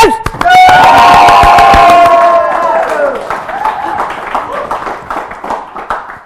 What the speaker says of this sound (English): I want another round of applause, but bigger with more cheering this time.